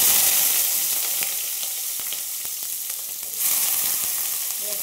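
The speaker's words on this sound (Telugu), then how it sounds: "ఆయిల్ హీట్ ఎక్కాక మనం కట్ చేసి పెట్టుకున్న వంకాయ ముక్కలు అయితే వేసేద్దాం" Eggplant pieces hiss and sizzle in hot oil in a pan, a steady, loud frying noise with occasional crackles and stirring clicks and no talk over it.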